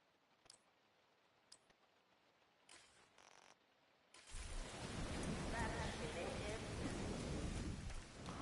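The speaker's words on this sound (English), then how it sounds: "It's always raining in this game." Rain in the video game The Division 2 starts abruptly after a few soft menu clicks, a dense, steady downpour hiss that fills the rest of the stretch at moderate loudness.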